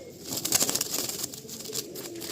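Pigeons stir inside a loft, with soft coos and brief flutters of wings close by, a quiet restless bustle and no voices.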